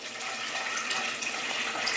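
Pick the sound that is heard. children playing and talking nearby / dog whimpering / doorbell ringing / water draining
water draining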